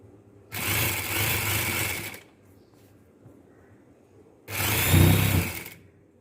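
A sewing machine stitches patchwork fabric in two close, loud bursts of rapid whirring, each lasting under two seconds, separated by a quiet pause.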